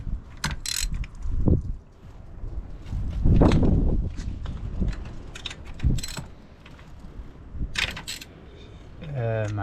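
A 10mm socket wrench ratchets on a valve cover bolt of a Nissan 300ZX twin turbo, close clicking and metallic clunks in uneven bursts, with scuffs and handling noise between them.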